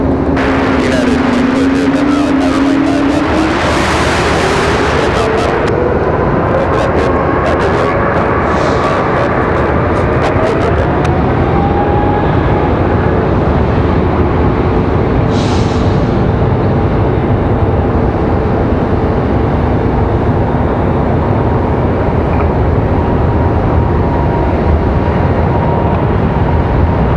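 Delta airliner taking off at Raleigh Durham airport, a continuous broad jet roar with a rising engine whine, steady and fairly loud throughout, with a brief clatter of handling noise near the start.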